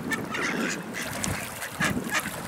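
Ducks being fed cake outdoors give a run of nasal honking, quacking calls, several overlapping and close by, over light background noise.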